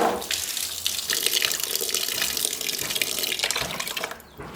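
Water runs steadily from a tap for several seconds during soap-making, a broad hissing splash that fades out near the end, with no talk over it.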